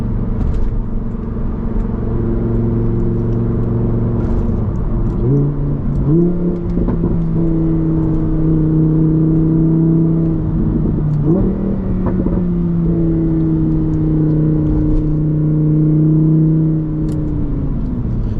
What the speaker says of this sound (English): the engine sound with that V10 behind me, bruh, sounds amazing